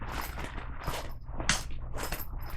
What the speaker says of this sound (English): sorry about the zipper noise